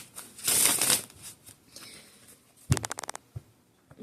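A tarot deck is shuffled by hand close up, with a dense burst of card riffling early on, then a quick run of sharp, rapid card flaps and a few soft taps.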